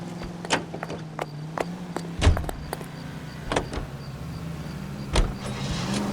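Car driving in the video game L.A. Noire, with a low steady engine hum and several sharp clunks and thuds scattered across it, and no talk.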